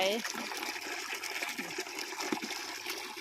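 Water runs steadily from an open tap outdoors, a continuous splashing trickle heard close by while a person speaks over it.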